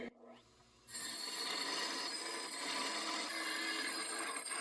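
A bench grinder fitted with new bearings starts grinding after a quiet moment, producing a steady, bright, continuous abrasive hiss close by.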